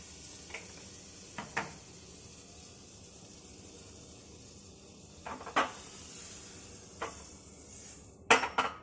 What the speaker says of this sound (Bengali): প্যানটা ঘুরিয়ে ঘুরিয়ে বাটারটা পুরো প্যানটাই লাগিয়ে নেব,